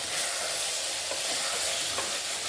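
Half spoons of coriander powder and garam masala frying in a pan, for coconut milk rice, give a steady close hiss of sizzling with faint stirring movements and no voices.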